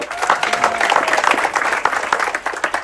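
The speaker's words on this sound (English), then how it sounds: "Big applause for Sacho" Crowd applause rings out for a crew member during the Amadeus crew introductions, busy overlapping claps with a few sharper individual hits standing out, sustained for the whole stretch.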